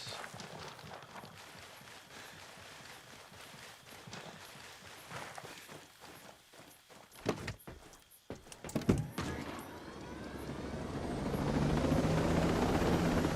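A helicopter's rotor thrum in Ghost Recon Breakpoint builds and grows steadily louder toward the end, preceded by footsteps and scattered impacts against a low droning background.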